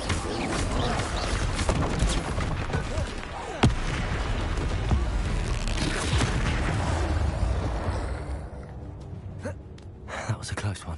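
A Bombarda spell goes off in Hogwarts Legacy, with a sharp blast near the start. Dense, roaring combat noise follows and fades into quieter sparse hits, and a voice speaks over the fight.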